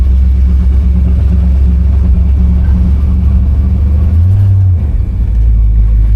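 A 1972 Buick Skylark with a 350 engine pulls away, heard from inside the car as a loud, steady low rumble that holds throughout with a brief shift in pitch near the end.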